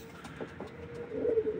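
Tumbler pigeons coo inside a loft, a soft rolling coo that swells near the end, close by and fairly quiet over a low background hum.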